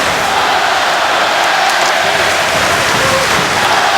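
Loud, dense hockey arena crowd roar at a Carolina Hurricanes versus Columbus Blue Jackets NHL game, a steady wash of cheering and noise filling the whole stretch without a break.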